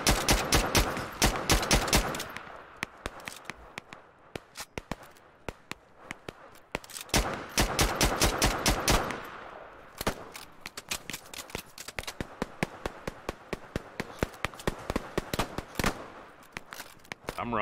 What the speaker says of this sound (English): Covering fire!